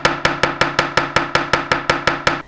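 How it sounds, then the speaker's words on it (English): Ball end of a steel chasing hammer striking a metal wire spiral to texture it, about thirteen sharp, bright metallic taps in a quick, even rhythm, close and loud with short ringing decays. "now I'm going to texture it with the ball end of the chasing hammer"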